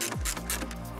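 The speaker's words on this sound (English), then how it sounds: "you'll hear all those clips engaging" Plastic grille clips on a 2023 Ford Ranger snap into place during a Predator Night Hawk grille fitting, a few quick close clicks within a second, with no speech.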